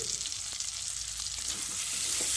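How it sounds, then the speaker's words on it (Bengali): Spinach and potatoes stir-fry in a hot pan with a steady, close sizzle and crackle that holds for the whole stretch and grows slightly louder toward the end. "আলুর সঙ্গে খুব ভালো করে কষিয়ে নিচ্ছি"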